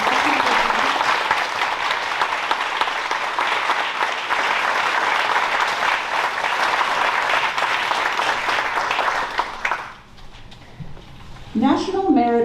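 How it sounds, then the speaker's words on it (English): Audience applause at an honor graduate night for scholarship recipients, sustained, full clapping from a large crowd that drops away near the end as a voice begins speaking. "let's give everyone a round of applause"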